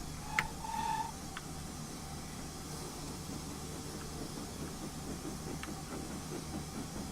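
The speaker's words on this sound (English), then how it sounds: "I hear another train going past." In Train Simulator 2017, another train rumbles past on the Metro North line, a low continuous rolling hum with faint hiss and a few brief clicks and a short tonal squeal near the start.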